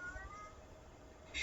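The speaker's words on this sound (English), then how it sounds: "I have a cat crying in the background" A pet cat cries softly in the background of a quiet room, a faint drawn-out meow that swells slightly louder at the end, with no talk.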